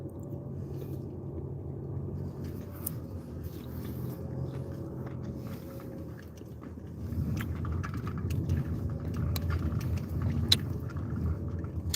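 A car drives along a remote country road, a steady low engine and road rumble from inside the cabin that swells slightly louder in the second half, with scattered light rattles and clicks.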